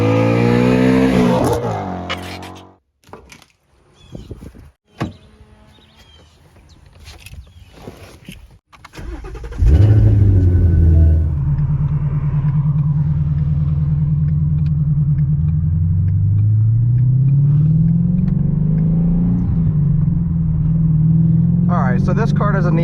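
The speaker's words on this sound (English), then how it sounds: "ever wondered what it's like to daily drive a Shelby GT350?" Ford Mustang-based Shelby GT350 starting up, a sharp starter crank and bark, then a loud rumbling V8 idle that rises as the car pulls away and settles into a steady driving drone, with talk over parts.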